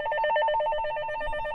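A telephone rings with a fast, warbling electronic trill, pulsing steadily throughout at close range with no voices over it.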